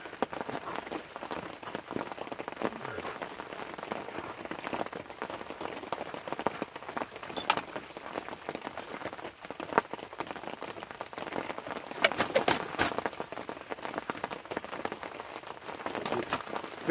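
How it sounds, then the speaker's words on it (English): Heavy rain pours steadily onto a surface outdoors at a fishing session, a dense, continuous hiss with scattered louder drop impacts throughout, no voices. "it's absolutely chucking it down the rain"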